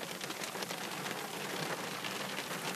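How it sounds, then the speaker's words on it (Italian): Steady outdoor rain falls in a continuous hiss of drops spattering on surfaces, evenly spread and fairly faint, with no speech over it. "Dicevo, qui piove."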